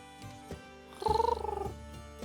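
A pet owl cat in the fantasy merchant game Craftcraft purrs in a short, rhythmic rolling burst with a brief meow-like edge, close and clear over soft game music.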